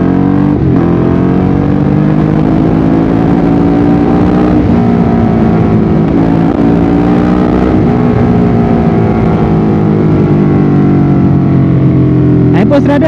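A Ducati Hyperstrada 821 motorcycle with an L-twin Desmo engine drones steadily while riding, loud and close with rising and falling revs and wind noise, as a rider talks throughout.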